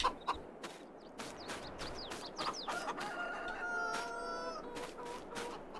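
Chickens in the Farming Simulator 22 video game cluck in short bursts while a rooster crows a drawn-out call midway, fairly quiet farmyard sounds with no speech.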